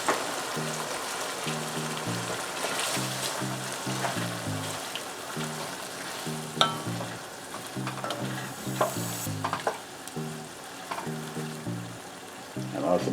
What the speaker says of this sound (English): I'm adding the sardines in tomato paste and tomato sauce.